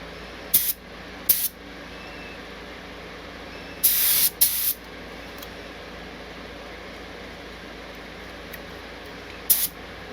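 Harbor Freight spray gun spraying 2K clear coat onto a headlight: five short, sharp hissing bursts, two quick ones, a close pair, then one more, over a quiet room hum, with no talk.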